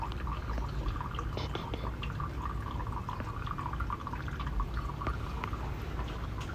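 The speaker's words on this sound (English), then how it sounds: "What does the water feature look like?" A garden water feature trickling and splashing steadily, a continuous soft flow of falling water, moderately near and even throughout with no clear talk.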